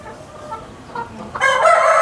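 Young chicks and hens in a backyard coop, with faint clucking at first that swells into loud, close, overlapping clucks and calls in the last half second.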